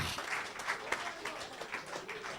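A church congregation at a Spanish-language worship service claps for the Lord, a quiet, uneven scatter of hands with a few sharper individual claps and faint voices underneath.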